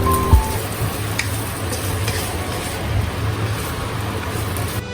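Radish cakes are stir-fried with fried egg and dried shrimp in a hot pan, giving a steady, even sizzle and hiss with a few faint scraping ticks near the start.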